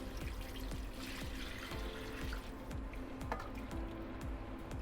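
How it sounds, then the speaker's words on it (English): Broth poured into a pot of roast beef and vegetables, a soft steady trickle and splash of liquid running continuously at low volume, with no talking. "Now add half a liter of broth."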